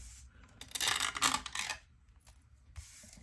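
Playing cards from a Marvel Champions card game are shuffled back into a deck, a brief close riffling rasp of card stock over a quiet room.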